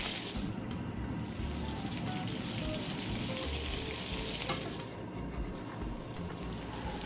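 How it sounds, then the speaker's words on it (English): Butter sizzles in a frying pan while pancakes cook, a steady close hiss of frying running unbroken with no voices. "As soon as butter hits the pan, you will hear this gentle sizzle."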